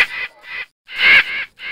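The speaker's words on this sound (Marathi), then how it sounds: "कावळे काव काव करायला लागले." Crows give four harsh caws in quick succession, loud and close, with short silent gaps between calls.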